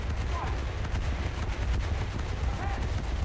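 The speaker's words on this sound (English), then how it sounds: "Now we switch on AA gunners again. And we'll see that they'll shoot at the aircraft." Naval video game warship anti-aircraft guns firing at attacking aircraft, dense rapid bursts of gunfire rolling continuously under a voice.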